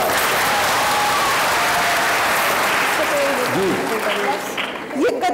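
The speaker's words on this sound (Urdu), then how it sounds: "تالیاں." A studio audience at a televised Eid poetry contest claps loudly and steadily for several seconds, the dense applause thinning toward the end as voices break through.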